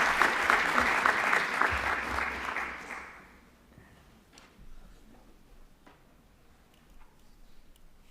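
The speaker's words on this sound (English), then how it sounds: "let's give a round of applause for Inês" Audience applause for a speaker at an annual symposium, about three seconds of steady clapping that then fades out, leaving a quiet room with a few faint scattered claps.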